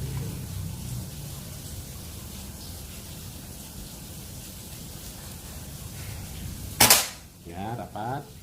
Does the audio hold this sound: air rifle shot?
yes